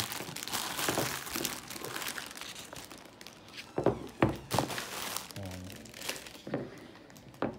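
A plastic Honda air filter box is opened by hand, with repeated thunks, clicks and crinkling handling noises, a few sharper knocks in the second half, and no talking.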